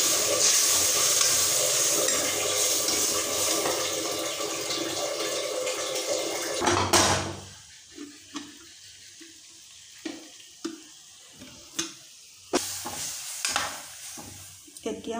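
Roselle seed paste poured into a pan of frying fish: a loud, dense sizzle for several seconds, then a sharp burst as the paste hits, settling into quieter intermittent bubbling and clinks.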